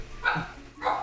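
A dog barks twice indoors in quick succession, two short, moderately loud yaps about half a second apart over a quiet room.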